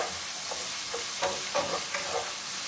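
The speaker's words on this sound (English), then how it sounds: "in here, I have cooking up is 1 pound of bacon." A pound of bacon sizzles softly in a pot for a one-pot creamy pasta, with several stirring scrapes and clinks of a utensil against the pot.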